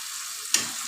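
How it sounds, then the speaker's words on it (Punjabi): Green chillies and onion for tadka hit hot oil in a pan, setting off a sudden sharp sizzle that flares up and then settles into a steady fry. "ਆਪਾਂ ਤੜਕਾ ਭੁੰਨਣਾ"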